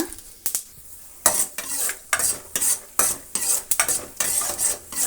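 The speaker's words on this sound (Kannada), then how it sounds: "ಕಳೆ ಬೀಜ ಮತ್ತು ಕಡಲೆಬೇಳೆ ಎರಡನ್ನೂ ನೀವು ಇಷ್ಟು ಫ್ರೈ ಮಾಡೋಣ" Peanuts and chana dal fry in a pan as a spoon stirs and scrapes in repeated bursts, with a steady light sizzle beneath the close, clattering strokes.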